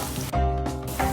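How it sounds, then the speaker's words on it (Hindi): Munakka raisins fry in hot oil in a pan, giving a loud, close, steady sizzle with a couple of brief surges as they hit the fat. "फर्स्ट मुनक्का डाल रहे हैं और इसको फ्राई कर रहे हैं।"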